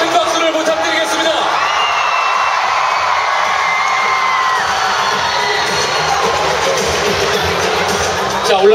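A large arena crowd at a televised singing-competition final cheers and screams continuously, shrill shouts and whoops layered over a loud, unbroken roar for the two finalist teams.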